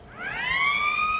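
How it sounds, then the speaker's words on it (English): A warning siren rises steeply in pitch, then holds a steady, piercing tone that grows louder and stays constant. "A siren sounds a 10-second warning."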